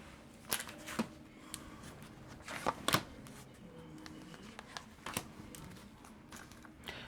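Tarot cards being picked up and shuffled, a few quiet sharp riffles and slaps spaced irregularly over soft handling rustle, close but faint.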